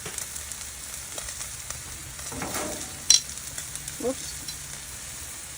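Bacon sizzling on a Blackstone griddle, a faint steady frying hiss broken by a sharp clink and a brief scrape, with a short spoken exclamation.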